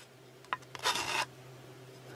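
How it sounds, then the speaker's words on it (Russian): A metal hand file rasps across a riveted kitchen knife handle during a knife restoration, giving a few short scraping strokes, the longest in the middle, close and fairly quiet. "подровняем напильничком"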